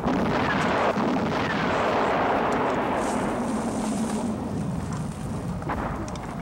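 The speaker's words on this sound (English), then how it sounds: "the clip where Paul and his friends are being pummeled by artillery" Heavy artillery from a war film pounds in a dense, loud roar of blasts and rumbling debris that holds nearly constant, then eases slightly toward the end.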